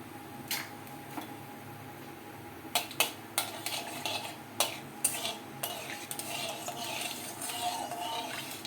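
Black cumin seeds stirred in hot mustard oil in a pan, a low steady sizzle under scattered clinks and taps of a utensil against the metal, moderately quiet.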